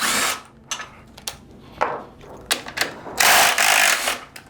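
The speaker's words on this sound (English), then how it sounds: "I'll start with the security bolt." A power tool whirs in short, repeated bursts while loosening a security bolt during a QuickFlight service, close-up with brief pauses and a longer final run.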